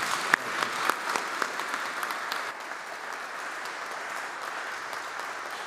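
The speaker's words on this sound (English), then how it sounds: "Let's give her a round of applause." Audience applause fills a church, steady dense clapping sustained throughout at moderate distance with a few sharper claps near the start, no voices over it.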